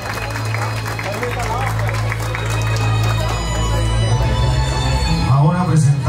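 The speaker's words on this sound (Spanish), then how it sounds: "Aplausos, aplausos, que se escuche más fuerte" Audience claps and cheers for the queen at a quinceañera celebration, a sustained wash of applause in a hall under a loud announcer's voice and a low, humming music bed.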